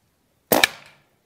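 A single sharp gunshot from a Rossi Outlander carbine firing a slug, a loud close crack with a quick double attack and a short decaying tail, with no talk over it.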